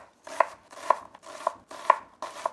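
Steady knife chops through an onion on a cutting board, about two per second, crisp and close, with a soft crunch under each stroke.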